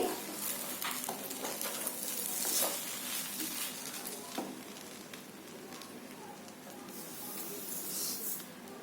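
Sugar, pineapple and cardamom powder stirred into pineapple sheera in a pan, a soft hissing sizzle with faint scraping stirs, fairly quiet throughout and no talking.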